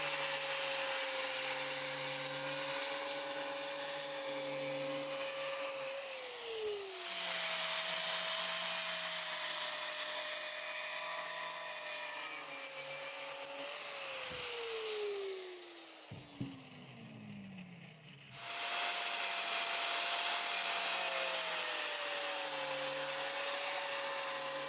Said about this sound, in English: now I'm going to use my cutoff tool and cut all this off